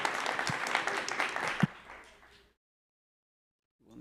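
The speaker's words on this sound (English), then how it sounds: "Applause." Audience applause at the close of a talk on a conference stage, dense clapping for about two seconds that thins out and stops, followed by silence.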